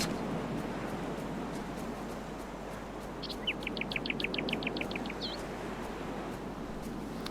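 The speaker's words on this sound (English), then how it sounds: "Old Blue is one of the rarest birds in the entire game" Old Blue, a rare bird in the survival game Salt, gives a short, faint run of rapid chirping notes over steady ambient wind and surf noise.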